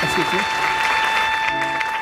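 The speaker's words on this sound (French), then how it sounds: "Mesdames et messieurs, commencez tout de suite à applaudir Madame Nancy Desiel." Studio audience applause welcoming a guest onto a French-language talk show, a steady wash of clapping throughout under a sustained tone, with voices speaking over it.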